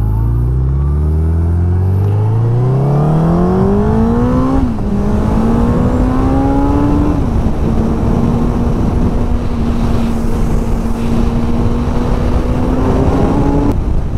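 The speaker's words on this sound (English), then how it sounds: "revs up easier, it gets up and going easier" Suzuki Hayabusa motorcycle engine after throttle body synchronization and a Power Commander install, revving up from idle in rising sweeps, then holding a steady high drone with small blips, loud and close with no talking.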